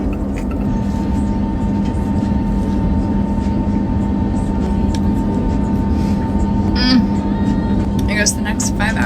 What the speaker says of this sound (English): I guess the next 5 hours of my vlog is gonna be this plane ride